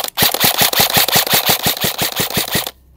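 An airsoft gun fires a rapid full-auto burst of about fifteen sharp, evenly spaced cracks lasting under three seconds, loud and close, with no talk.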